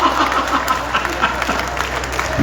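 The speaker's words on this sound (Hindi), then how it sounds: "महिलाएं भी तालियां बजा देती है।" An audience at a Hindi poetry recital in a Ramlila ground claps together, a brisk, dense round of applause with some crowd murmur mixed in, fairly loud and continuous throughout.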